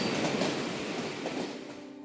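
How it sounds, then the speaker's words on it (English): Ringling circus trains rolling out on the rails, a steady rumbling clatter of wheels over track joints with faint metallic squeal, moderately loud and fading slightly toward the end. "Ringling's trains pulled out of Hartford, headed for winter quarters in Sarasota"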